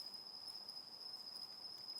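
A katydid calls at night, a thin continuous high-pitched buzz holding steady and faint against a quiet background, with no voices.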